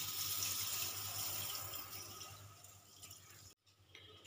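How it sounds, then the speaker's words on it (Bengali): Water poured steadily into a pot of sugar and cracked cardamom pods to make syrup, a continuous close splashing stream that cuts off abruptly near the end. "দেব পরিমাণ মতন জল।"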